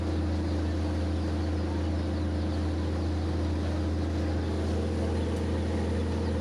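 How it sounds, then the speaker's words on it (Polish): A steady low engine drone of a motorboat approaching on the Amazon River, continuous and fairly close, with broadband wash noise and no voices. "Tutaj druga łódeczka podpływa. Trzecia w sumie."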